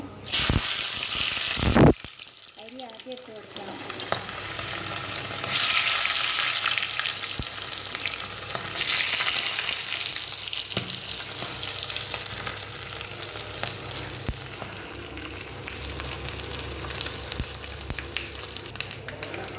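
Steady, loud sizzling of rice frying in hot coconut oil, with a brief clatter near the start and occasional scraping of a spoon.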